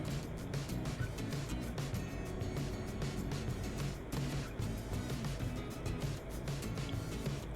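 A truck driven in Euro Truck Simulator, driven carelessly and over the speed limit, giving a steady engine and road drone that stays at a constant level throughout.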